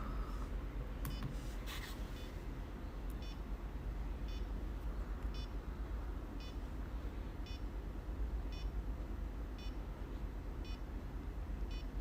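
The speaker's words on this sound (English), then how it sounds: "We also have a buzzer, which is kind of faulty and very soft" A faulty, very soft buzzer on an Arduino countdown timer gives faint, evenly spaced short beeps, about one per second, barely rising above a loud, steady background hiss.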